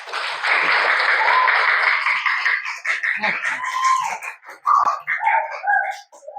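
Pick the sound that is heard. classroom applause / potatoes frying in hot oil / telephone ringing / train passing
classroom applause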